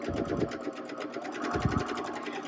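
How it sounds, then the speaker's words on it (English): A JUKI sewing machine stitches fabric for a zipper bag, a quick rhythmic needle chatter heard up close in a short continuous run, with no one talking over it. "sew all the way down"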